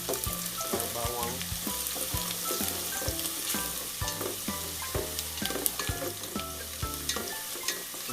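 Ginger and garlic sauté in a pan for papaya cooked in coconut milk, giving a loud, continuous sizzle with the scrape of a stirring utensil, with no talking.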